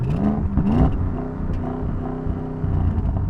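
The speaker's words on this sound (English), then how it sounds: "Anyway, I'm revving." Car engine revving against its soft limiter during a drag race lineup (new Audi RS7 vs BMW M8 vs Mercedes-AMG GT 4-door), a steady, loud held drone with slight rhythmic cutting, alone without talk.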